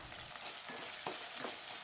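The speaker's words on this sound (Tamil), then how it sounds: "தக்காளி ஓரளவுக்கு வதங்கிடுச்சுங்க." Tomato and chilies sautéing in a pan for capsicum chutney give off a steady, close sizzle of frying, with soft stirring scrapes running through.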